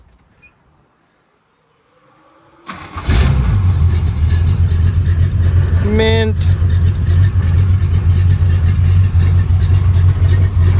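After a near-silent pause, a 1986 Chevy square body truck cranks and fires up, then settles into a loud, close, steady engine roar with slight revving; a voice speaks briefly.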